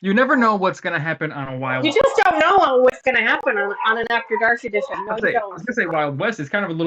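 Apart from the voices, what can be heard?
No everyday noises stand out.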